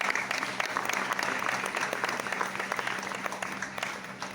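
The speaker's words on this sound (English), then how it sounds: "El Shaddai also has won many awards, including the National Award from the Government of India, which deserves once again a huge round of applause." Audience applause for El Shaddai Charitable Trust at a Goa academy event, a steady, dense round of clapping from a sizeable crowd that holds evenly for the whole stretch.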